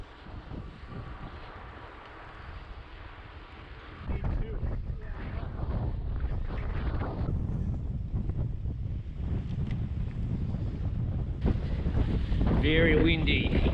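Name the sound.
strong headwind blowing while riding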